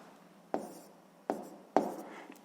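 Pen or chalk strokes as a math answer is written down: three separate sharp scratching marks spaced roughly evenly apart, close and fairly quiet, with no speech.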